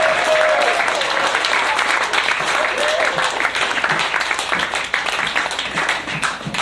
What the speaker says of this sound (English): Come on, give her a clap.